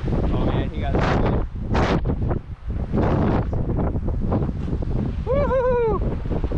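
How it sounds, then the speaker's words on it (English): Strong wind buffets the microphone in loud, continuous gusts at an outdoor downhill skateboarding spot, with voices talking and shouting over the roar. "The wind went crazy right now."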